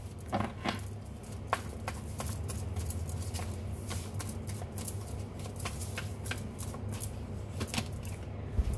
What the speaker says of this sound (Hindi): लेकिन मुझे तो अभी कार्ड शफल करने हैं ठीक तरीके से।